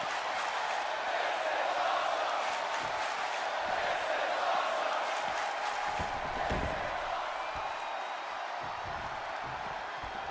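A wrestling crowd in a WWE 2K20 battle royal roars in a dense, steady wash of cheering that holds at an even level throughout, with faint thuds from the action underneath.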